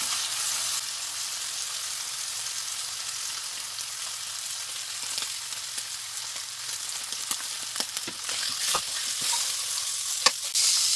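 Veal shanks for osso buco sizzle and fry steadily in a hot pan while being seared, a continuous close hiss with occasional sharper crackles and pops toward the end, no voices.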